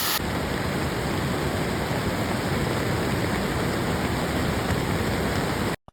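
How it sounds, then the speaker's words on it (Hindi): A waterfall pouring over a shivling in cold, near-icy mountain water in Solang Valley, heard as a steady, loud, close broadband roar of rushing water that holds constant throughout before cutting off at the end. "इसके ऊपर ये वाटरफॉल"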